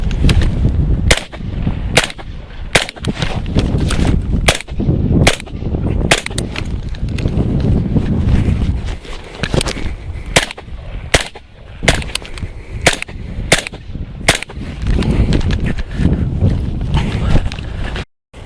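Gunshots fired during a movement-and-shooting drill outdoors, loud sharp cracks in irregular clusters of two or three spread across the stretch, with wind rumble and movement noise between them.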